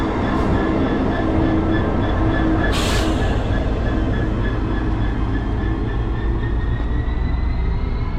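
A GB Railfreight Class 66 diesel locomotive rumbles past close by, a loud continuous roar of engine and wheels with a faint high squeal drifting through it and a brief hiss partway along.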